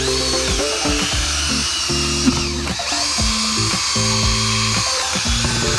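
A power drill fitted with a scrub brush attachment whines loudly while cleaning bass boat carpet, its motor pitch rising and dropping repeatedly as the brush is worked back and forth.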